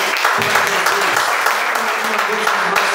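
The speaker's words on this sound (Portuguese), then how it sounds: "As palmas bem fortes." Congregation clapping loudly and steadily in a church service, a dense, sustained burst of applause close by, with faint voices mixed in.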